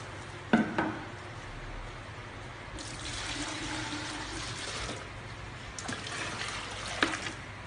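Tap water pours and trickles into the reservoir of a salt spray tester: a steady running rush of water with a few small clinks near the start. No one speaks.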